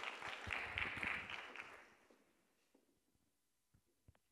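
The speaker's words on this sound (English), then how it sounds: "A round of applause, please, for our speakers" A round of audience applause for speakers at a conference panel, loud at first and then tapering off into scattered claps and quiet room noise.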